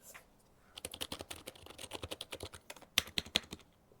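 A Corsair computer keyboard typed on up close: a fairly quiet, even stream of keystrokes, with a few sharper clicks near the end, and no talking.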